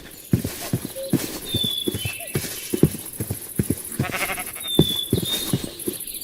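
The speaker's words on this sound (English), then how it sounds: "Tons of horses." Hoofbeats of horses in the Minecraft video game clop in a steady, irregular rhythm, close and fairly loud, with faint bleating-like animal calls mixed in and no talking.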